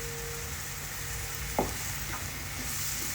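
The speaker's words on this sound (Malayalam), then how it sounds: "എന്നിട്ട് ഈ തക്കാളി നല്ലതുപോലെ ഒന്ന് മൂക്കട്ടെ." Pureed tomato paste fries in a pan with a steady soft hiss, broken once by a clear scrape of stirring and a few lighter scrapes after, close and quiet with no talking.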